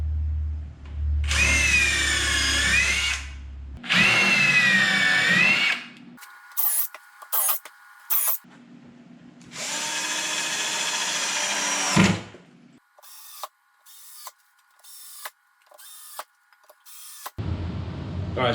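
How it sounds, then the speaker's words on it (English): A power drill pre-drills screw holes for cabinet drawer slides, whirring in several longer runs that rise and fall in pitch, then a string of short, sharp bursts, close and loud with no talk. "once all your slides are in, you just simply pre-drill."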